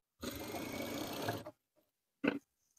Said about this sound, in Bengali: তারপর এইভাবে ধরে আমরা সেলাইটা দেব।